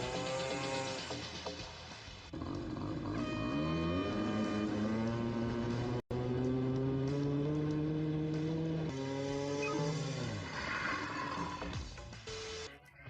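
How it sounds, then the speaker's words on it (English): A small motorcycle engine in a kid's Ford Raptor converted into a drift car revs and whines, pitch climbing and falling as it accelerates and slides, loud and close, with a brief cutout midway. "a kid's Ford Raptor turned into a motorcycle-powered drift car?"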